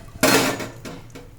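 Potato fries dropped into hot oil in a pan at home, giving a sudden loud sizzling burst that fades, followed by two softer splashes as more pieces go in; no talk.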